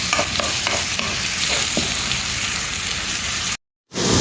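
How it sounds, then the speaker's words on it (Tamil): Onions sautéing in hot oil in a pan for a macaroni pasta dish, a steady close sizzle with light stirring scrapes, no voices, cutting to a brief silence near the end. "வெங்காயம் நல்லா வதங்கட்டும்."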